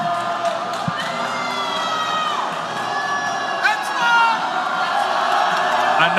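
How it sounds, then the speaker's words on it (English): A fight crowd in an opponent's hometown jeers and shouts steadily, a dense roar of many voices with whistles and yells rising near the end. "The crowd is booing him, and he does not care"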